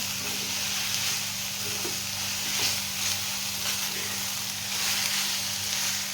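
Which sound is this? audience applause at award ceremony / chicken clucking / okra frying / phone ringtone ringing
okra frying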